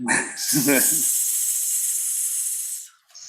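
A voice makes a long, loud hissing sizzle sound for about two seconds, imitating food frying, right after a brief burst of speech.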